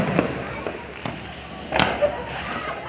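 Fireworks bursting at night, several dull booms and crackling pops at irregular intervals over a continuous outdoor rumble, moderately distant, with faint voices in the background.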